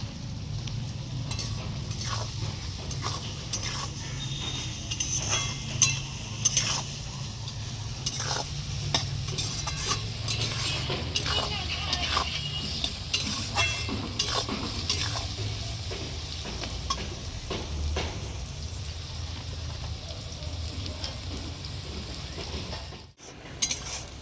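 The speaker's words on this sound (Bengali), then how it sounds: "পেঁয়াজটা কিন্তু আমার ভাজা হয়ে এসেছে" Steady sizzling of salted onions frying in a pan, with scraping and stirring strokes throughout and occasional light clinks of a utensil against the metal.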